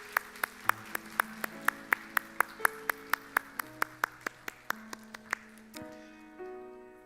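Church congregation clapping in unison for the elders during a Sunday service, a steady run of about twenty crisp, evenly spaced claps that end as a sustained organ or keyboard chord swells in.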